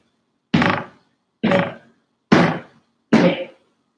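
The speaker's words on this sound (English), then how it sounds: "We're hitting down in a fist, hitting down, palms down, hitting down, palms down." A fist thumps down on the floor four times in an even rhythm during a Dolphin yoga pose, each a close, solid thud with silence between.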